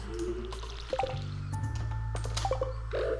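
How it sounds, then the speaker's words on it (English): Watering pumpkins with a watering can in Stardew Valley, a few short squishy drips and splash effects over soft game music. "Go ahead and water my pumpkins."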